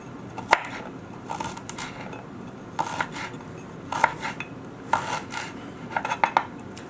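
A knife mincing ginger on a cutting board, with sharp, irregular clacks of the blade against the board coming in small clusters, close and fairly crisp.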